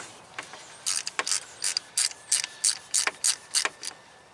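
A ratchet with a 10mm magnetic socket backs out the camshaft position sensor bolt on a Pontiac Vibe / Toyota Matrix, giving a string of about a dozen close, crisp clicks in quick uneven bursts.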